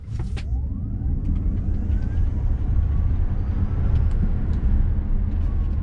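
A Ford Mustang Mach-E GT Performance Edition in unbridled mode accelerates hard, its electric drive giving a steady, rising whine over a loud rush of road and wind noise inside the cabin.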